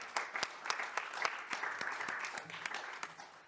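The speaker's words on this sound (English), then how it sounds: "I think we get a round of applause." An audience claps after a university law lecture on EU law and Brexit, fairly quiet applause with distinct individual claps standing out, heard from a little distance.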